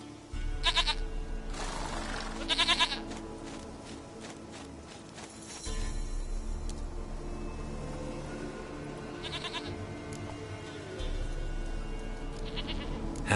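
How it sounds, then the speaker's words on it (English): Several loud bleats from a goat in The Witcher 3 come in separate bursts, two close together early on and more spaced out later, over a steady low game ambience with soft footsteps and no speech. "Goat of mine, dearest, sweetest goat."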